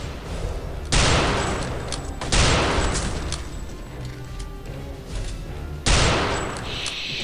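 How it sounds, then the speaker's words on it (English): Rifle gunfire in the shooter game Return to Castle Wolfenstein: three loud, booming shots spaced a couple of seconds apart, each trailing into a long echoing decay over a steady game background. "we have a rifle."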